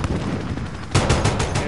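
Gunship cannon fire raining on troops on a tarmac in a Modern Warfare campaign mission, a loud close burst of rapid heavy shots after a brief lull.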